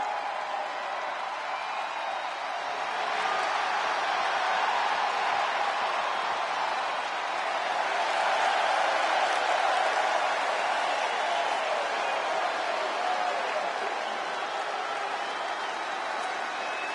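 Steady arena crowd roar with scattered applause in the WWE 2K26 wrestling game, a broad sustained wash that swells in the middle and stays fairly loud throughout with no clear voices on top.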